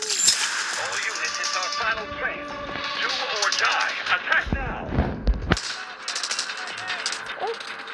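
Rapid bursts of game gunfire crackle over busy background noise, with sharp shots and a heavier blast midway, while a voice talks at times.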